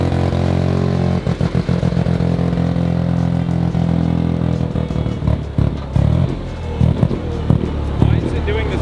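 A single-rotor Mazda engine in a car runs loud and rough, with a steady drone broken by uneven pulsing and sputtering bursts while driving, and voices talk over it.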